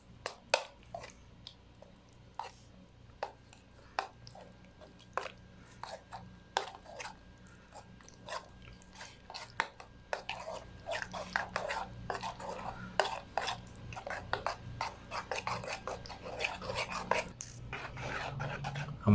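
A spoon stirs mint and yogurt chutney with a little salt in a bowl, making close, repeated clicks and soft scrapes that grow faster and denser partway through.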